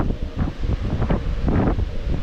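A cool wind blows across Navapur beach in Virar West, gusting against the microphone in uneven rushes. Faint surf sits underneath, and no one speaks.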